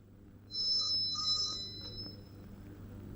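A telephone rings in an office scene from a Bollywood comedy, a short bright electronic trill sounding twice in quick succession and then fading, fairly faint with no one speaking.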